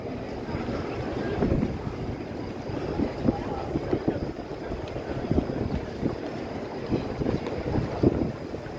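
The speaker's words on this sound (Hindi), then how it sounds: "ठंडी हवा चल रही है" Cool early-morning wind blows along Ibrahim Khalil Road near Kabootar Chowk in Makkah after the Fajr prayer, a steady buffeting rumble against the microphone with faint crowd murmur and footsteps beneath it.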